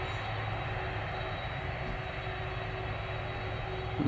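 An airliner rolls down runway 04 at London Stansted Airport after landing, a steady broad engine roar with a faint whine heard from a distance, unbroken throughout.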